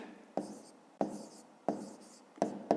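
Pen or pencil strokes on paper as numbers are written by hand for a fifth-grade maths exercise, in several short bursts with sharp taps between brief pauses, close and fairly quiet, with no talking.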